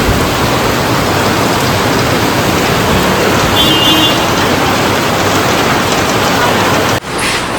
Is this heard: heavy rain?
yes